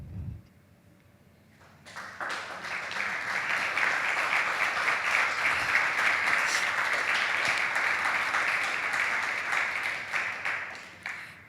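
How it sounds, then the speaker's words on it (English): Audience applause at a live poetry and song event: after a quiet opening, clapping breaks out and swells into steady, full applause that holds for most of the stretch before easing off near the end. "The applause."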